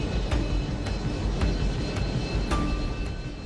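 Fixed-wing passenger airliner on flight EZ-01 over the Alps descending, a steady loud broadband engine roar with a constant drone throughout and faint periodic ticks.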